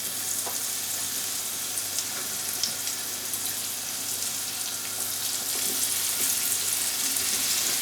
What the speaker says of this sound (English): Add the chopped onion and let that brown.